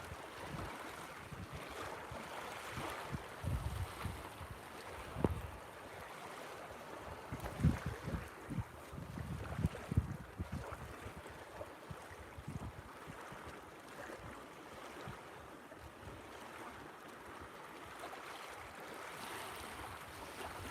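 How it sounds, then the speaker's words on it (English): A windstorm on Bluewater Lake during tiger muskie fishing, with gusty wind buffeting the microphone and choppy water slapping nearby, rising and falling in uneven surges. "Windstorm."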